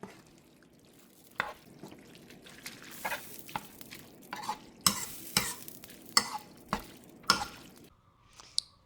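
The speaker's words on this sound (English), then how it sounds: "Let's just go ahead and mix it all together so the flavor get into the pasta" Lobster and scallop scampi pasta in white wine butter is stirred in a pan, producing irregular scraping clatters and wet squelches over a soft sizzle, with the strokes growing louder and closer together toward the end.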